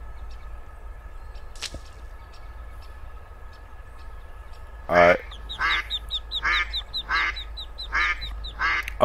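Duck calling at a park duck pond, a run of about six quick, fairly loud honking quacks in the second half, set against steady outdoor background hum with a faint early chirp.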